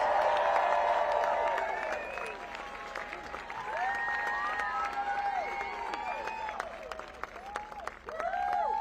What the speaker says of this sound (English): Let's give Don a round of applause.